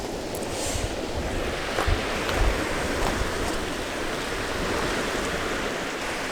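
Waves along an ocean bay shore beside a recreational campsite, a dense, steady roar of surf that holds at a constant moderate level with a few slightly louder surges.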